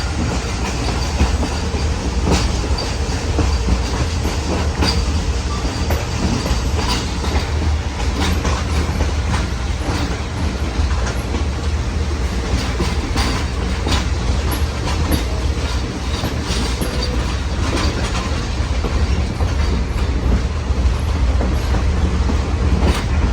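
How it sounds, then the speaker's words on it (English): Excursion train cars rolling on rails, a loud continuous rumble with steady clickety-clack wheel beats and occasional faint squeals, heard from on board without any talk. "This is train riding."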